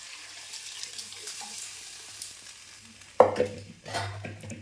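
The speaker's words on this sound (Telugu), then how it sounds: "ఇవిగోనండి నానబెట్టిన బియ్యము రైస్ వేసేస్తున్నాను" Soaked rice tipped into a pot of hot liquid for egg biryani, a quiet low simmer that breaks into a sudden splash and stirring slosh partway through, close and alone.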